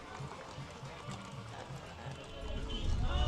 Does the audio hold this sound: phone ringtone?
no